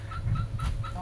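Chickens on a farm cluck in a short quick run of several close, repeated calls.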